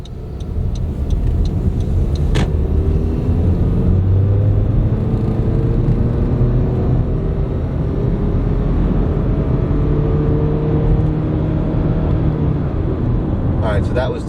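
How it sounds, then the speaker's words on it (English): A 2019 Honda CR-V with a CVT accelerates out of a turn in eco mode, giving a steady, loud cabin drone and road rumble with a smoothly rising engine tone and no distinct gear shifts. "So we'll do a little acceleration here coming out of this turn."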